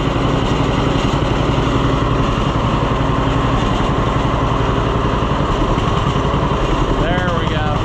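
Engine of an Oliver 1365 tractor (Fiat 640) runs steadily at a loud, close, constant idle with a rapid even chug while being run until out of fuel, with brief voices near the end.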